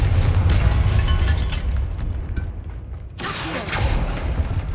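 A fire-spell blast in the video game Hogwarts Legacy, a loud sustained roaring burst with a sudden swelling surge partway through, set in an eerie tomb with a dense low rumble throughout.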